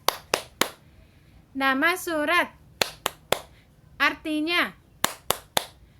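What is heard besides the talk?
children clapping hands in rhythm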